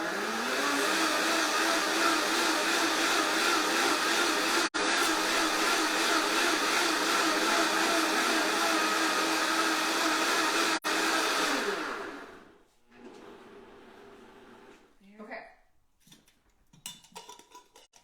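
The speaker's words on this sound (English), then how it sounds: "So the Vitamix is great because it gets really, really aggressive and gets all those little bits pureed" A Vitamix blender purees soup with a loud, steady, whirring roar that holds for about twelve seconds, then cuts off, leaving only faint kitchen clatter.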